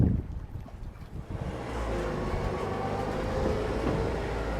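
An open-air tram at CocoCay rolls along with continuous broadband rumble and wind buffeting, a louder bump at the start, then a steady drone with no talk.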